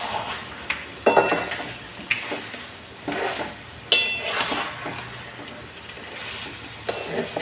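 Crab being stirred and mixed with lemon juice and masala in a pan, irregular metallic scrapes and clinks of a spoon against the pan with soft wet shuffling between them, close and moderately loud.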